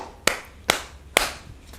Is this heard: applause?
yes